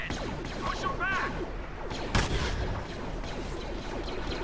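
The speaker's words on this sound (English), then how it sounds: "There was just like an explosion over there." Star Wars Battlefront gameplay: a burst of blaster gunfire and a sharp explosion crack mid-battle, surrounded by dense game combat noise.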